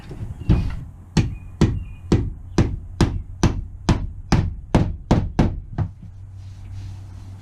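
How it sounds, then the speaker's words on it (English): A series of about fourteen sharp hammer strikes driving a staple down into lauan plywood inside an RV, evenly paced and close, each a hard metallic knock on wood with brief ringing between blows. "Gotta get the hammer."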